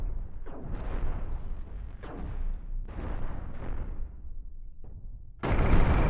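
Ship weapons fire in the Cosmoteer space combat game: four or five booming shots spaced irregularly a second or so apart, ending in a louder, longer rushing blast.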